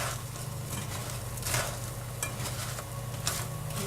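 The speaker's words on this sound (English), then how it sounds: "And you stir." Sugar for vegan almond brittle is stirred as it melts in a pan, giving a steady soft sizzle and scraping with occasional louder clinks of the utensil against the pan, close up and with no talking.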